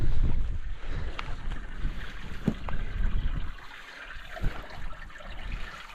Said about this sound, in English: Yeah, some nice running water in there somewhere.